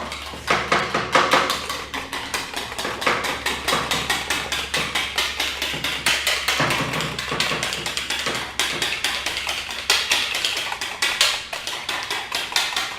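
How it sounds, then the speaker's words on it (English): A whisk clatters rapidly against a bowl while mixing a ketchup and Dijon mustard sauce, a fast steady rattling of metal on the bowl that continues throughout with no talking. "And then you're going to want to whisk this."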